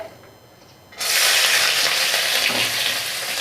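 Onions hit hot oil in a pan after a quiet start, bursting into a loud, steady sizzle that holds with faint stirring underneath.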